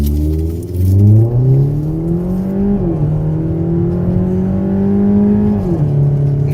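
Stock-tuned Chevy Cruse 1.4L turbo launching hard from a stop, engine loud and close as its revs climb steadily through two gear changes, each marked by a brief dip in pitch before rising again.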